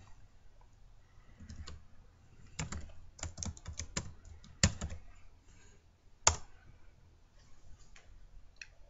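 Quiet typing on a computer keyboard while entering text into an Excel spreadsheet, with scattered soft key clicks and a few sharper taps in short bursts, close and faint.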